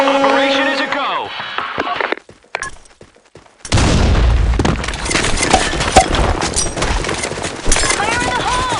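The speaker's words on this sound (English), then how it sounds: "Fire in the hole. Grenade." In the video game Sandstorm, a loud, close grenade explosion bursts midway with a deep boom and a long rumbling tail, after game voices, gunfire and a brief near-silence.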